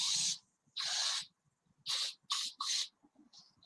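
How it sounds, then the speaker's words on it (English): A can of fly spray hisses in several short bursts, close and clear, with brief pauses between sprays and a faint final puff, in an otherwise quiet indoor space. "get a few fly sprays going on in there"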